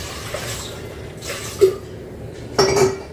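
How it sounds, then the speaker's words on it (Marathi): A metal stand set down inside a pressure cooker gives two short clinks, the second a brighter metallic clatter, against quiet kitchen background. "चला आता कुकरमध्ये ना स्टँड ठेवते खाली आधी तळाला आणि त्यामध्ये थोडंसं पाणी टाकते"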